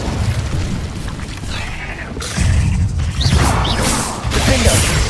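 An Incendio fire spell goes off in Hogwarts Legacy, a whooshing burst of flame with crackling crashes and impacts layered over game combat noise, several bursts in quick succession.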